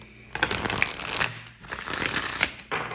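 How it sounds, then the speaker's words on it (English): A deck of cards being shuffled up close in several riffling bursts, crisp flapping and ruffling sounds with short pauses between passes. "I'm trying to shuffle the cards and they don't want to shuffle"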